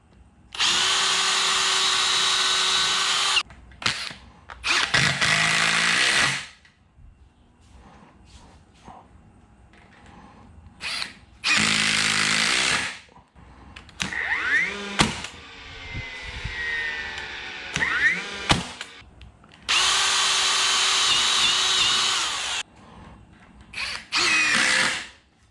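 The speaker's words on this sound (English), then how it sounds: "We're gonna do our pilot holes. And I'm only gonna do those on the corners." Power drill boring pilot holes into the corners of a wooden firewood rack frame, several loud whirring bursts of a few seconds each separated by quiet pauses and handling knocks.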